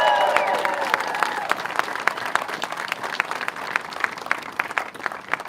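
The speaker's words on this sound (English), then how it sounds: "Let's give them a round of applause." Applause at a political rally in Loudoun County, Virginia, opening with a brief cheer and settling into scattered, distinct claps from a moderate crowd, fairly close and gradually thinning.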